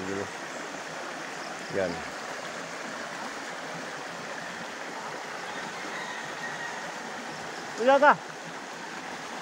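A small outdoor stream flows with a soft, steady rushing wash throughout. Two brief bursts of voices break in near the start and again near the end.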